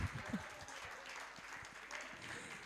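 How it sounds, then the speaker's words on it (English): Soft, distant applause rises from an audience at a women's empowerment event, a faint steady patter of clapping heard from far off with a few louder knocks at the start. "A round of applause for us."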